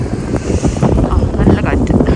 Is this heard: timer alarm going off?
no